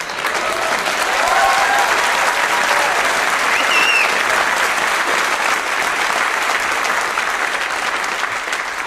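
A comedy show audience claps in a loud, steady burst of applause that fills the whole stretch without fading, with no talking over it.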